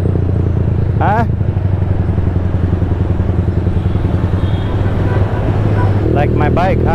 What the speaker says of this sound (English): I guess there's no reason for my engine to be this loud.